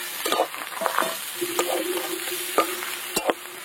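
Fried vegetables are tipped into a pan with snakehead fish and stirred, producing scattered scraping and clattering strokes over a soft sizzle, fairly close and moderately quiet.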